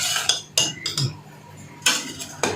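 A spoon stirs split black lentils (mash daal) in a cooking pot, scraping and clinking against the metal in a few distinct strokes, close and fairly loud, with no talk.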